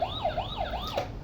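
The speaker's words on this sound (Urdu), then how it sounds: "یہ پولیس کار ہے، یہ چلتی ہے" Toy police car siren: a close electronic wail sweeping up and down in quick repeating cycles, steady and alone, with a low mechanical hum beneath.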